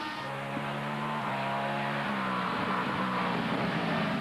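Race cars in the Sports Racing World Cup at Brno roar close by through turn 1, engines holding loud sustained tones that shift pitch as a Panos car goes round the outside to overtake.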